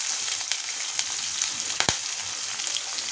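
Green chillies sizzle in hot oil for tomato rava bath, a steady close hiss with a few sharper crackles and pops, no voices.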